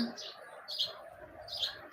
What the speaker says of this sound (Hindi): अभी टिड्डी सो गई, चिड़िया जाग गई है।